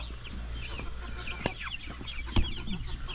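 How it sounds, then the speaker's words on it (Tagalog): Backyard chickens, a flock of four, cluck close by in a garden, with short repeated clucks and a louder burst near the end, no talking. "Lalaki na ng ating mga manok."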